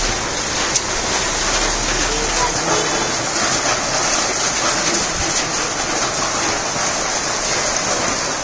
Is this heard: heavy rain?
yes